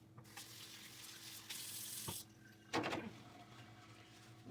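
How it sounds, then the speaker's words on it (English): Water runs from a kitchen tap while hands are washed before baking, a close, hissing stream that comes in two bursts, then a short clatter and splash as the flow stops. "Wash my hands."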